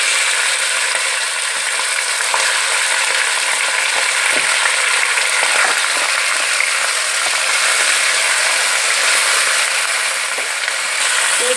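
Chopped medium onions fry steadily in hot oil for Kabuli pulao, a continuous even sizzle with faint crackles and occasional utensil clinks, close and without talk.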